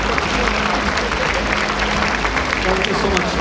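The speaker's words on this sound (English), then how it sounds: "Round of applause, please" Applause from the audience at a fintech panel event as a memento is handed over on stage, a continuous crowd of clapping heard up close with faint murmuring and voices mixed underneath.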